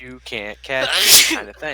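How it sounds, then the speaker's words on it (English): One sharp sneeze bursts out in the middle of casual talk between podcast hosts discussing a tokusatsu series, with voices just before and after it. "Bless you"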